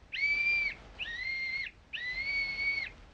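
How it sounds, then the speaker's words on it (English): Three sustained, high-pitched blasts from a small whistle in an old-time radio drama, each under a second, separated by short pauses; clear and fairly close. "Blow the whistle quick, Jimmy."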